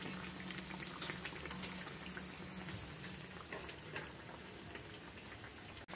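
Masala vadas deep-frying in oil, a faint, even bubbling hiss with occasional small pops, ending in a brief knock.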